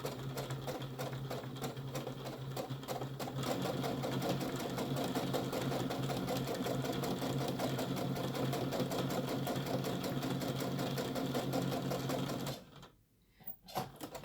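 Sewing machine stitching a tote bag, a steady close rhythmic whir and needle chatter running continuously for about twelve seconds before stopping, followed by a few faint handling sounds.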